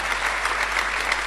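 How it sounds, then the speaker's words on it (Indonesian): A church congregation breaks into lively applause, a dense, bright patter of many hands clapping at once, loud and sustained throughout with no pause. "Yang setuju berikan tepuk tangan yang meriah buat Tuhan."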